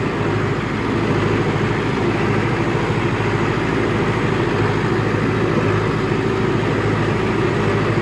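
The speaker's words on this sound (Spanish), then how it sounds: "Activamos la toma de fuerza porque es como trabajo esta fertilizadora." A tractor runs steadily with its PTO driving a granular urea fertilizer spreader over a maize field, a constant loud mid-low engine drone with a mechanical whir, no talk.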